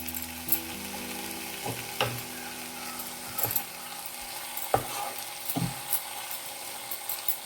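Prawn roast with curry leaves sizzles in a pan, a steady hiss of frying broken by sharp clinks and scrapes of a spoon against the pan.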